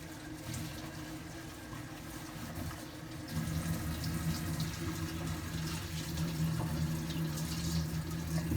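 Red leaf lettuce is rinsed under a running kitchen tap, a steady close rush of water that grows fuller and louder partway through, with no one speaking.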